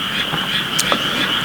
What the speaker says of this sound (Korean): 개구리가 계속 울어대네요.